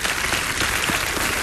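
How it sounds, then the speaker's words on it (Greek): A television studio audience applauds a Greek singer on the ANT1 show Stin Kardasians, a dense, loud, continuous wash of many hands clapping with no break. "Ένα χειροκρότημα."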